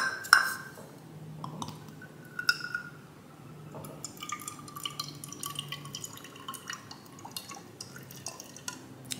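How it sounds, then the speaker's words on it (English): Light soy sauce pouring from a bottle in a kitchen, slow irregular glugs and drips with faint glassy clinks, close and quiet with no talk. "next I'm gonna use about 2 cups of light soy sauce"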